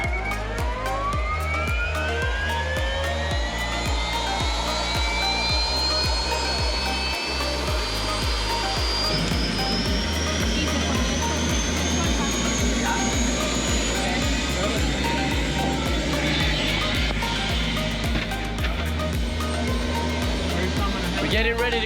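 Light aircraft engine on a sightseeing flight over a farm and estate in Colombia, a loud steady drone with rhythmic low pulsing that continues throughout, with people talking faintly beneath it.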